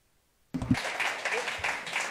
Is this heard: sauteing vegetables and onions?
no